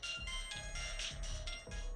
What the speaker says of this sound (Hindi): तभी उसे धनराज का फोन आया।